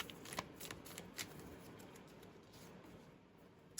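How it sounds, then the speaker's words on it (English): A tarot card deck, a newly arrived Kickstarter deck, being shuffled by hand, with soft riffling, rustling and occasional sharp card snaps close up, fairly quiet and with no talk. "I want to shuffle before we look at that card"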